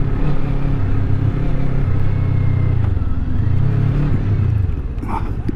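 Motorcycle engine heard from the rider's position while riding, a steady loud drone with the pitch rising and easing as it accelerates, mixed with road and wind rumble throughout.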